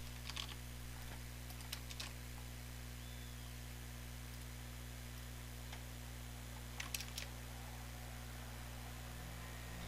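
A few faint, scattered keystrokes on a computer keyboard, with long quiet gaps over a steady low electrical hum in an indoor room.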